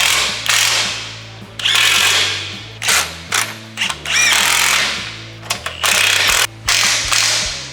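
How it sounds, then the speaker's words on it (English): Ratchet wrench tightening the bull-bar cradle bolts on a Toyota Hilux N80, giving repeated close, loud clicking bursts in quick rhythmic strokes with short pauses between sets. "Now that the cradle's centered, you can start tightening up all the bolts."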